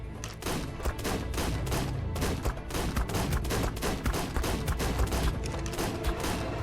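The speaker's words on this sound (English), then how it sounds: "I got back upon the rock and opened fire." Rapid gunfire while shooting a juvenile wyvern in the game Ark Survival Ascended: dense, fast bursts of shots in a steady crackling volley, close and loud throughout.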